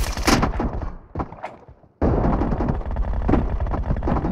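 Gunfire in a PUBG team deathmatch played on a Redmi Note 8 Pro: loud close shots and bursts, a brief drop toward silence, then sustained firing again with no talk.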